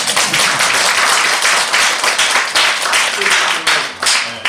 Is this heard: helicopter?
no